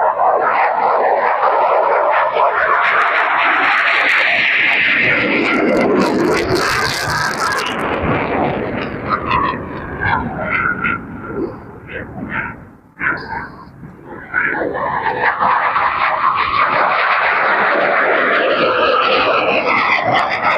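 F-16 fighter jets take off from the main runway at Tucson during Air National Guard training, a loud roaring jet blast that swells, fades as the aircraft climbs away, then returns as another jet roars past.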